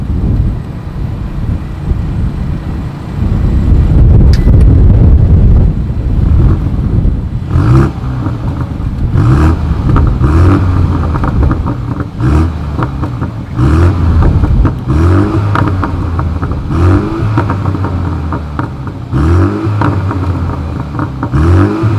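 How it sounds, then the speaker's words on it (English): A 2020 BMW M235i Gran Coupe exhaust barks through loud, repeated revs, rising and falling in sharp bursts after a deep rumbling start, close and unaccompanied by speech. "This is probably going to be an amazing sounding exhaust clip."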